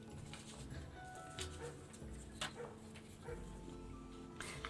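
Dogs bark and yip in a video game scene set near polar bears. The barks are faint and intermittent over a steady ambient background.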